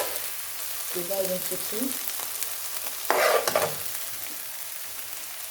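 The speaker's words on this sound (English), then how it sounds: "I'll fry the rice 2 times." Rice stir-fries in a pan with a soft, steady sizzle and occasional scraping stirs, louder in a short burst midway, while a voice speaks briefly.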